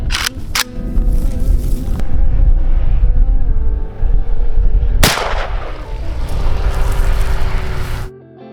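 An AK rifle firing 7.62x39 rounds through a stack of coins lets out several sharp, loud reports spaced apart, each followed by ringing reverberation and echo at close range.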